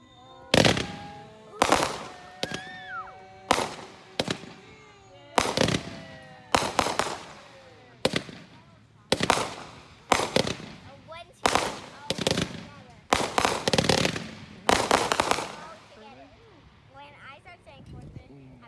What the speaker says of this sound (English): those rockets and can shows went super quick